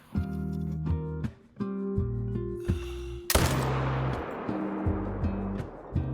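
A single sharp rifle shot fired at an animal in the hunting game theHunter at Silver Ridge Peaks, a loud crack midway with a long decaying echo, set against tonal game music.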